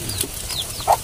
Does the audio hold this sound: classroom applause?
no